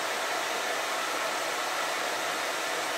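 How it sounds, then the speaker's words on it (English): A hair dryer runs in a steady, loud, unbroken airy roar powered through a 1000 watt pure sine wave inverter, with no voices. "I'm going to turn the hair dryer off so you can hear the fan."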